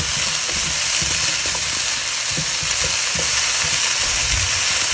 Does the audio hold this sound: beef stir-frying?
yes